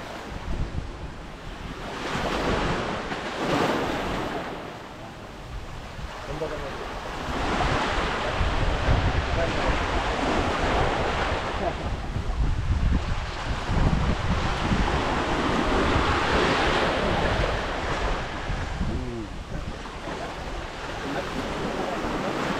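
Surf breaks continuously along a shoreline while strong wind buffets the microphone, a loud rushing wash of waves rising and falling with occasional faint voices in the background.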